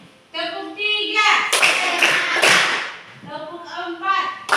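Elementary class doing a counted clapping routine before a lesson, sharp bursts of claps from the group alternating with a teacher's and children's chanted voices, loud and close.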